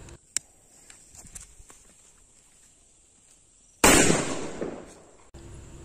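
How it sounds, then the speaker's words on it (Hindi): A paper bomb firecracker set off during Diwali: a quiet stretch of faint ticks, then one sharp, loud blast that decays into a crackling hiss for over a second before cutting off. "नेक्स्ट आता है हमारा ये पेपर बम। तो चलिए इसको भी चलाते हैं,"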